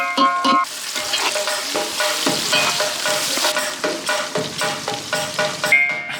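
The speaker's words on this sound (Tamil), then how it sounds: "பார்த்தீங்கன்னா வெங்காய தக்காளி வந்து ஒரு நல்லா வதங்கிடுச்சு." Onions and tomatoes frying and being stirred in a pan for a village-style mutton head and intestine curry, with a steady loud sizzle and repeated scraping stirs throughout.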